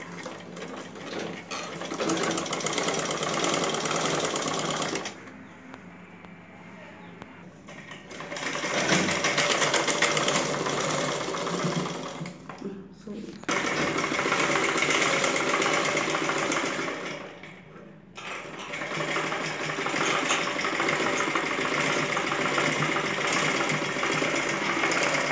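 Sewing machine running in long steady bursts while stitching a contrasting fabric strip to a saree border for a blouse puff sleeve, with brief pauses between runs; no voices.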